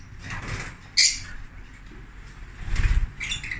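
Lovebirds in an aviary give a few short, sharp squawks with a brief flutter of wings, fairly close by against a low background hum.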